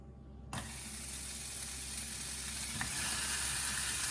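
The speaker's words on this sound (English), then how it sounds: "Now it's time to fry your ham. Don't be shocked by the loud sound, it's all natural." Ham hits a hot pan and a loud, steady sizzle bursts up, crackling and spitting continuously with a faint clink partway through.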